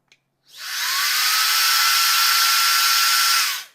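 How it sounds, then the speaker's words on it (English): A small handheld 20-volt battery-powered vacuum lifter for heavy pavers runs steadily with a loud, airy high-pitched whine, starting up sharply and cutting off after about three seconds, with no voices. "especially from a little handheld 20-volt powered vacuum"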